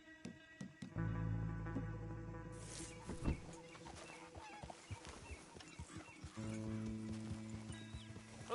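Horse hooves clip-clop steadily in Red Dead Redemption 2 on PS5, amid other animal calls, honks and whinnies, with layered background sounds and no talking.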